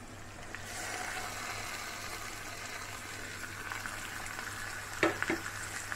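Marinated chicken frying in oil on a medium flame for a South Indian Pallipalayam chicken fry gives a steady close sizzle, with a few sharp clanks of a spoon or pan near the end.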